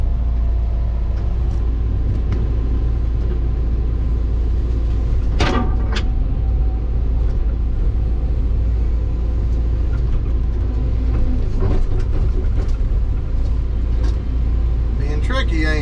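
The engine of a Caterpillar 316 excavator runs as a loud, steady low rumble, with occasional clanks and creaks from the machine. Someone talks over it throughout.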